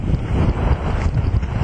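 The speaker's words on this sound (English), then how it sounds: "even though this light wind is hitting me" Light wind buffeting the microphone at a sunny Australian beach, a steady low rumbling roar that fills the whole clip with gusty swells and no other clear sounds.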